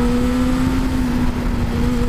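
A Honda CB1000R Black Edition motorcycle engine drones steadily and close, its strong tonal hum holding a constant pitch throughout.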